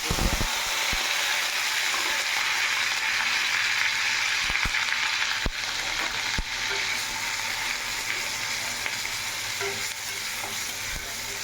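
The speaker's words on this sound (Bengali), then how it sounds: "আস্তে আস্তে করে পেঁয়াজটা যখন ভাজা হবে" Onion frying in hot oil in a wok over a low flame: a steady, continuous sizzle that stays loud throughout, with occasional sharp clicks and scrapes from stirring.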